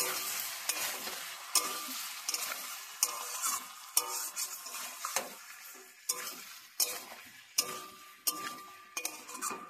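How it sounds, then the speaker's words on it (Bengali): Fried shrimp is stirred in a pan with potato, pumpkin and pointed gourd in a spice paste, giving a soft steady sizzle punctuated by sharp spatula scrapes and clinks roughly every second. "ভেজে রাখা চিংড়ি মাছটা দিয়েও আমি একটু 2 মিনিট নাড়িয়ে নেব"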